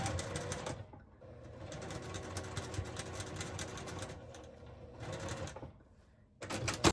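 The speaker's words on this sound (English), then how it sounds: "we'll just keep finish sewing all the way down" Sewing machine stitching along quilt sashing in steady rapid bursts, pausing briefly between runs, close and fairly loud with no talk.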